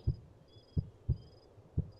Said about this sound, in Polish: słyszę bicie serca